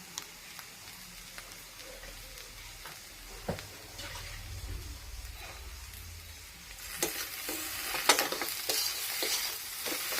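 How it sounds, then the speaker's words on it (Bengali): Shati fish mixture with salt and turmeric is stirred in hot oil, a soft sizzle under intermittent scraping strokes that grow busier toward the end, fairly quiet overall. "আমি একটু তেলের উপর নাড়াচাড়া করে নিলাম"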